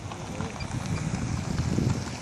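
Wind buffeting outdoors during a flight of a Piper light aircraft, a steady gusty roar with swelling low rumble across the whole stretch, no voices.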